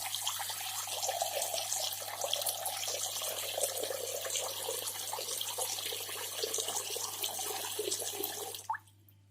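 Tap water runs steadily into an unplugged sink, a close, continuous splashing rush that holds level and then cuts off abruptly just before the end.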